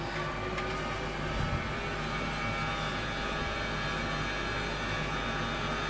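Boeing 737 simulator engines spooling up to full power for takeoff, a steady loud broadband jet roar that holds constant throughout with no voices.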